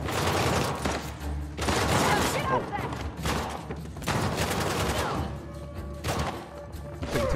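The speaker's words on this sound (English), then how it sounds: "Many shots." Dense, sustained gunfire from the video game Uncharted: The Lost Legacy, loud bursts of shots and thuds continuing almost without pause, with a player's voice talking over parts of it.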